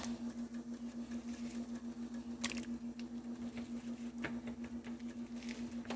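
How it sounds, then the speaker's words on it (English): Pieces of beef drop into a pot of boiling stew with a couple of soft, wet plops over a steady low hum and faint bubbling. "I'm going to go ahead and add my meat in there and let that boil until the meat is tender"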